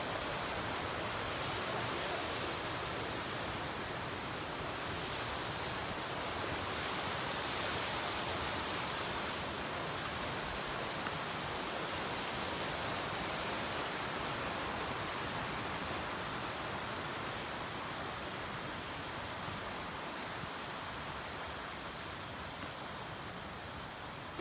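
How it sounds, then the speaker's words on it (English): Cascades and waterfalls along the Goshen Prong Trail in the Smoky Mountains give a constant, broad rushing roar, dense and unbroken throughout, with no voices. "We've been hitting awesome cascades and slides and waterfalls the whole way."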